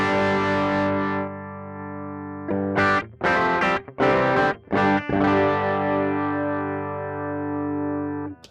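An electric guitar's clean tone played through a Fractal modeler with no amp: sustained, ringing notes and chords that are interrupted by a few short, choppy strums in the middle, then let ring out again, with no talking.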